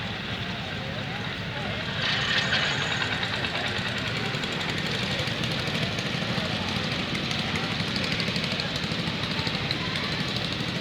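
A garden tractor engine chugs and knocks with a steady, fairly loud running rhythm as it passes in a threshing-show parade, with the engine noise continuing throughout.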